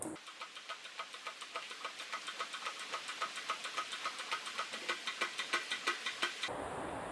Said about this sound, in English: he's opening the valve, and you can see this is opening valve up here with the help of a hydraulic system here